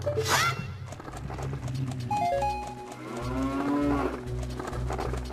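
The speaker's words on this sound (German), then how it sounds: "Und eine Kuh abballern." A cow in the video game The Legend of Zelda: Ocarina of Time (Master Quest) lets out a long, close moo over game music and horse hoof clip-clops, alongside other game sound effects.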